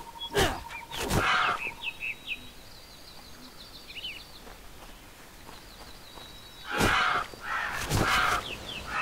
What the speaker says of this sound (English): Pellana Valley. Lots of birds.